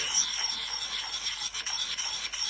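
A Lansky puck worked in circular motion over a hatchet edge, a continuous close metallic rasping with short dips in rhythm as the strokes turn.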